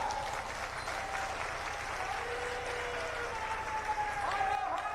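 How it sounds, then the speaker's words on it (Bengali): Crowd applauding at the opening of a fair in Tarakeswar, a steady wash of clapping held for the whole stretch with voices and shouts mixed in. "জোরে করতালির দ্বারা"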